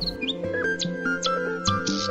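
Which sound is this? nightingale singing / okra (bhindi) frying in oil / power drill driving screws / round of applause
nightingale singing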